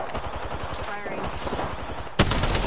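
Rapid automatic gunfire in a squad-based shooter video game, a dense close burst of repeated shots with a sharper loud report near the end.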